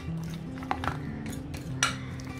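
A spoon scrapes and clinks against a bowl while chopped nuts are stirred into a melted milk chocolate mixture, a few soft knocks over quiet background hum.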